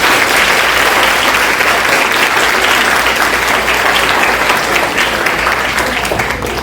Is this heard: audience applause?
yes